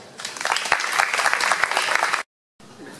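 Audience applauding at a jazz concert in a cava cellar in Terrassa, a dense burst of clapping lasting about two seconds before cutting off, with a quieter patch afterward.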